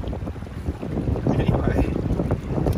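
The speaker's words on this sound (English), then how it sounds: "Such a windy day." Gusty wind blows outdoors at a gold sluicing spot, loud rumbling buffeting across the microphone that swells and eases continuously, heard without talk.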